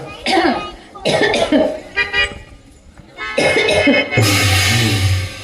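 A person coughs several times in short bursts, close up, with a car horn and traffic noise joining at the end.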